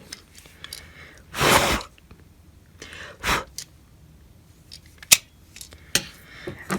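A cutter blade slices through a strip of quilt fabric in a few short, crisp swishes spread over several seconds, close by with quiet handling between strokes.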